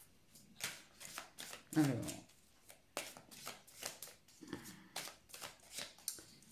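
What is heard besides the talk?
shuffling tarot cards before drawing one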